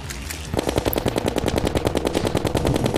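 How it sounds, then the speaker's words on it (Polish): Rapid automatic gunfire in the video game Terraria, a loud, steady stream of evenly spaced shots that starts after a brief moment and runs continuously without pause, with no talk over it. "Strzelam, strzelam, strzelam."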